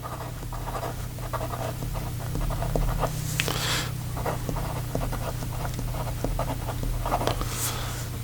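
A medium nib on a Waldmann Concord fountain pen scratches across paper in short, irregular strokes, close and quiet over a low steady hum.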